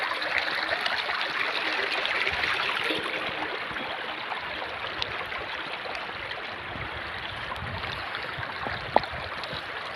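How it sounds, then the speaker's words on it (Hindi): Narmada river water streams steadily over a low crossing in a forest area, a continuous close rushing and gurgling wash that stays even throughout, with one small clack near the end. "मगर फिर भी पानी इसके ऊपर से बह रहा है।"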